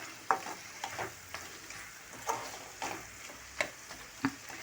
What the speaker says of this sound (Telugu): ఈ విధంగా ఫ్రై చేసుకుంటే